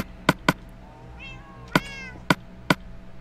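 Cats in the Minecraft video game meow twice, one after another, in clear nearby calls over a quiet background, while sharp clicks and taps sound around them.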